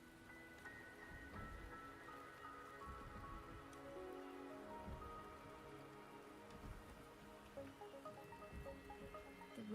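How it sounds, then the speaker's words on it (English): Steady rain falls in the video game Wuthering Waves, a continuous dense patter of drops on surfaces with soft low rumbles and game ambience, no talk, evenly loud throughout. "The rain is subsiding, and the sky will soon clear."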